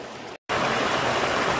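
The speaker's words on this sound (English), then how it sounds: "There's running water underneath." Running water flows through the Pamukkale travertine pools with a steady, close, broadband rush, broken by one short gap.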